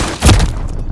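Gunfire in a shooter game, one loud, close booming shot with a thudding low body, followed by a rattling tail that quickly fades.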